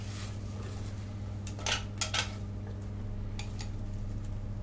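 Vegetables set into a cooking dish while preparing soy salmon with crisp vegetables, a few light clinks and scrapes against the dish, faint and brief over a steady low hum.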